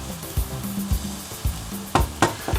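Onions sizzle and caramelize in a frying pan with a steady crackling hiss, broken by several sharp clacks and scrapes of stirring, close and fairly loud with no talking.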